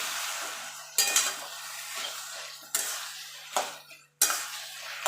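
Taro leaves cooked with chickpeas are stirred in a pan over a soft, steady sizzle, with several sharp scraping strokes of the spoon at irregular intervals, close by.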